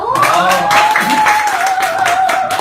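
Audience applause at a hotel lecture event swells over a sustained musical tone, with scattered clapping bursts through the whole stretch and no speech on top.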